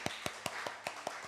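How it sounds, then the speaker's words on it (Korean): Newcomers are welcomed during a Sunday worship service at a Korean church with quick, evenly spaced claps, about five per second. The clapping is faint and somewhat distant, with no voices over it. "너무 박수 한번 쳐주세요."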